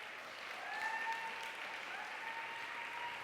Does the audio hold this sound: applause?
yes